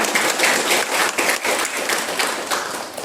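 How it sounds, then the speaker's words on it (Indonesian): Crowd of parents at an Islamic elementary school presentation in Purwokerto gives a dense, continuous round of applause lasting about three seconds, close and fairly loud with no talking. "Ragu-ragu banget, tepuk tangannya boleh sekali lagi dong."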